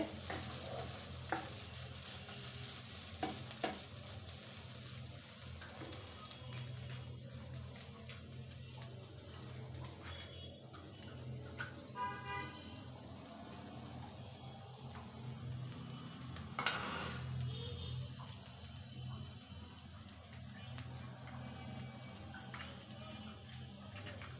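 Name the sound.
coconut mixture frying in a pan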